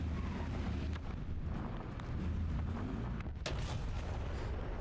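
A tank cannon fires in the War Thunder video game amid a dense, rumbling battle soundscape, with a sharp, loud report standing out near the end over constant low engine and ambient noise.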